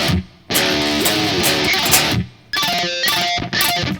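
An electric guitar plays the end of a song's chorus: loud, distorted chords ring out in bursts, broken by short abrupt stops.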